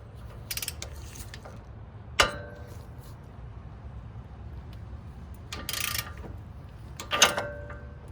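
A ratchet works 14mm nuts off the strut of an Acura RDX, giving a few short separate clicking bursts over a low steady hum of a garage.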